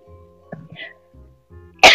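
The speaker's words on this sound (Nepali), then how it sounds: "कस्तो खोकी लाग्यो भन तिमीलाई" A single sharp, loud cough bursts out near the end, after a stretch of faint low murmuring and quiet background sounds.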